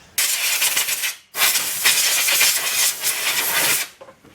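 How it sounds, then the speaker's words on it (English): Compressed air blasts onto the engine pulleys of a Toyota Starlet EP91 after brake cleaner: two loud, close hissing bursts, a short one then a long sustained one with slight pulsing, ending in a brief faint tail. "bit of brake clean on the pulleys just to get rid of any residue and hit it with compressed air"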